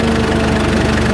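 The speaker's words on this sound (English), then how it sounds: "Uphill as the engine picks up speed, I think the governor's kicking in" The engine of a 1917 International Motor Truck Model F runs steadily while climbing uphill as it picks up speed, a loud, close, continuous low rumble with a dense mechanical chugging texture and no pauses.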